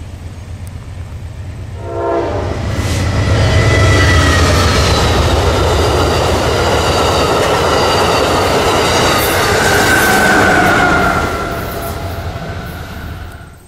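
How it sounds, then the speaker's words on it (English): Amtrak passenger train 1340, heading to St. Paul, Minnesota with a Pepsi-can paint scheme on the lead engine, passes nearby. A heavy rumble of wheels and cars builds quickly with horn-like tones, holds loud for several seconds, then fades away. "1340 Amtrak heading to St. Paul, Minnesota would have the Pepsi can paint scheme once again leading the way."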